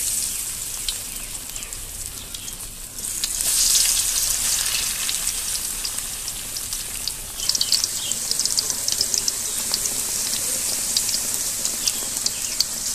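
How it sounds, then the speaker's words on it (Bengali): Potato chip slices deep-frying in hot oil in a home kitchen wok, a steady bright crackling sizzle that swells after a few seconds and continues evenly with small pops throughout. "তেল দিয়ে দিচ্ছি, তেল গরম হয়ে এসেছে। এবার আলুগুলোকে ভেজে নেব।"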